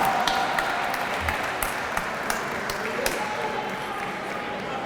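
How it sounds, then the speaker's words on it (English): Applause from a seated audience at a Hispanic Heritage Month opening ceremony, a steady wash of clapping with a few sharper isolated claps that carries through the whole stretch at moderate level. "So let's give her a round of applause."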